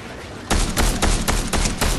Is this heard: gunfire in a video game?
yes